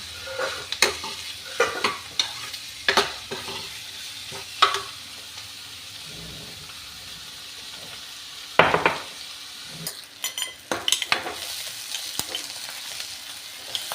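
Onions sizzling in a pan as they fry toward light brown, with repeated scraping stirs knocking at irregular intervals and a denser burst of stirring near the end, close and moderately loud, no talk.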